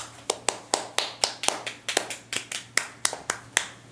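Hands clapping in a steady, evenly spaced run of about fifteen sharp claps, close and distinct against a quiet room with a faint low hum.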